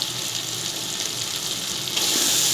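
Spice paste being stirred into a hot pan for Kadhi Pakora, a steady loud sizzle and fry with faint scraping, swelling brighter near the end, no talking.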